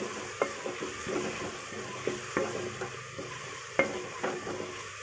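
A spoon stirs and mixes ingredients in a pan while making kadhi pakora, with soft sizzling underneath and a few sharper scrapes and knocks at irregular intervals, close up and with no one speaking.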